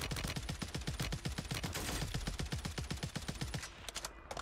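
Rapid automatic gunfire from Black Ops 6 Warzone on Rebirth Island, dense bursts of shots firing continuously and loud throughout, easing slightly near the end.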